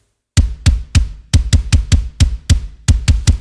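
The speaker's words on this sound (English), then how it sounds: "I am now feeding both the Odeholm and the One Hit Wonder Metal kicks" Deathcore metal kick drum layered from Odeholm and One Hit Wonder samples strikes eleven times after a short silence, each hit a punchy, close, dry thump with a clicky attack, loosely rhythmic with a brief gap near the end.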